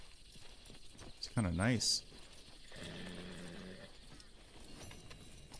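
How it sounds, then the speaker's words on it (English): Horse hooves clip-clop at a walking pace in Red Dead Redemption 2, soft and steady beneath game dialogue, with a short whinny-like call near the start. "Lead the horse to the water."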